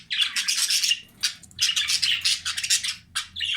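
A Jumbo budgerigar calling during courtship beside a nest box, giving close, loud bursts of rapid chattering warble and chirps in three or four runs separated by short pauses.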